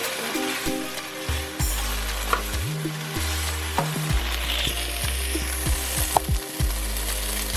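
A sauce of soy sauce, sweet chili sauce and garlic bubbles and sizzles softly in a pan, with low thumping handling noises and occasional small clicks.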